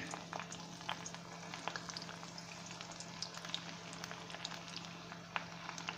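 Methi muthiya, fenugreek dumplings, cooking in hot oil over a low flame: a quiet, steady bubbling sizzle with scattered faint crackles and pops, no talking.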